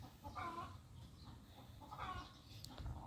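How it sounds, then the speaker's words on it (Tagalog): A chicken clucks in a couple of short bursts over a steady low background rumble, fairly close. "Puputak-putak yung manok din."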